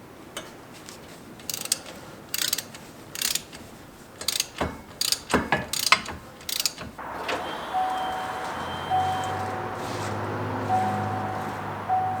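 A ratchet with an extension works on a wheel hub bolt of a Chevy Suburban during a wheel bearing replacement, giving several sharp clicking bursts, then a steady mechanical whir with faint tonal squeaks, close and moderately loud.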